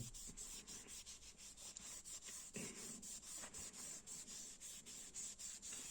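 A SYM Maxsym TL 508 scooter wheel rim is polished by hand to a mirror finish, with steady rhythmic rubbing strokes close up, repeating evenly and alone.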